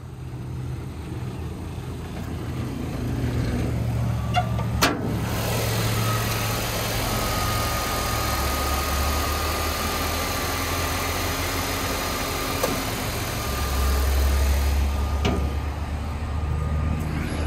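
A 2014 Nissan Versa with an automatic transmission and four-cylinder engine idles steadily at an auction lot, a continuous low hum with faint background noise and no talking.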